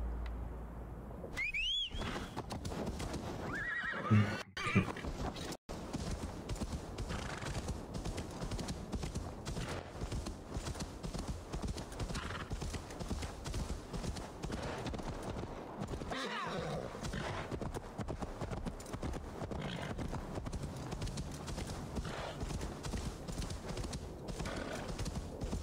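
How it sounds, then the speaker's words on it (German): In Assassin's Creed Valhalla a horse whinnies near the start, then its hooves clip-clop in a steady rhythm for most of the stretch under game ambience, with a brief whistle early on. "Wie kann ich das Pferd rufen?"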